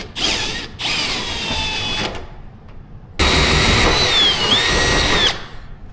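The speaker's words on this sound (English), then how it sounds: "I've got a deburring tool. See how it cleans up." Deburring tool scraping the edge of a freshly drilled hole in a Dodge Challenger hood during a hood pin install, a steady grinding whir in two bursts separated by a short pause, close and fairly loud.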